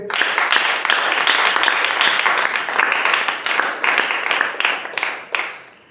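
Church congregation clapping hands together in worship, a dense, lively patter with strong rhythmic peaks that thins out and stops abruptly near the end.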